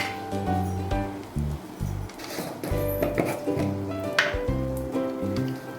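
Bay leaves and small cardamom pods drop into hot oil in a wok, giving a crackling sizzle with soft splattering bursts over a low background hum, no speech.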